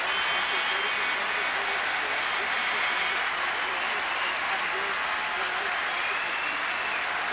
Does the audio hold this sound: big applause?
yes